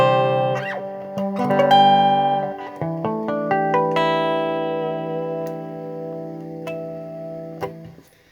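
Clean electric guitar chords and single notes ring out through a fuzz and delay pedal into a Marshall AS50 amplifier, sustained and shimmering with chorus-like warmth, no voices.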